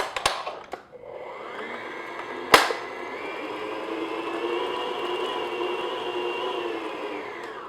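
Electric hand mixer beating an egg into peanut butter cookie dough. It starts with a few knocks and a sharp clack, then runs as a steady, fairly loud whir for several seconds with no talking.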